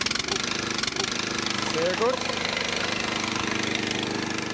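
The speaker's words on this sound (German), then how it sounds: "Das war der Motor für das Bohrgerät." A soil drilling rig's motor runs steadily close by, a continuous mid-pitched mechanical drone with a rough, pulsing texture like a small lawnmower engine, while someone speaks briefly over it.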